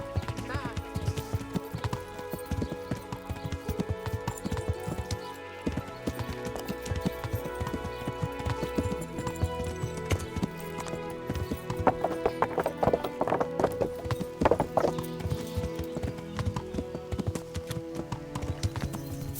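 Rhythmic clip-clop of horse hooves at a steady gallop in the video game Kingdom Come: Deliverance, alongside music and voices, with a horse whinnying now and then.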